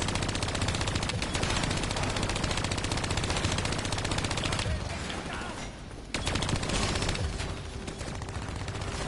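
Sustained rapid gunfire in a video game blasts almost continuously at close range, loud and dense, dropping briefly in the middle before resuming with renewed bursts.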